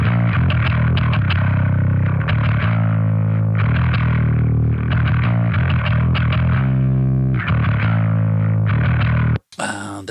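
A death metal bass submix with saturation, filtering and compression plays loud and gritty in chugging, riff-like phrases that stop abruptly near the end, with no voices.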